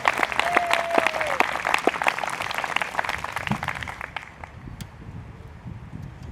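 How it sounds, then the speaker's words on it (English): An outdoor audience at a Harwich Town Band concert applauds in a dense burst of clapping that thins and fades away over several seconds, leaving faint rustle. "How about a nice round of applause?"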